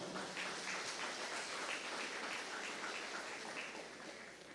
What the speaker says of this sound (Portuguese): Vamos dar um aplauso ao Senhor